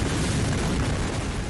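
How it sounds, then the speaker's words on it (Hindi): The massive Beirut blast sounds as a loud, continuous, broadband roar that fills the whole moment without letting up. "तभी होता है एक भयंकर धमाका"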